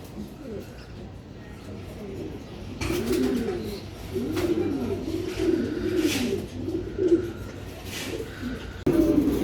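Racing pigeons coo in repeated, rolling bursts from close by, with some indistinct human voices behind them.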